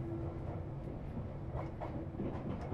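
Interior rumble of a moving passenger train on public transport, a steady dense low roar with faint rail clatter throughout, loud and continuous with no voices.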